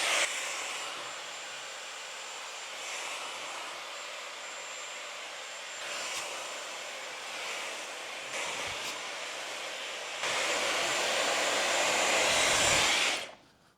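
A Dyson Airwrap hair styler blow-dries hair, blowing steadily, its roar shifting slightly as it moves, then jumping louder near the end before cutting off.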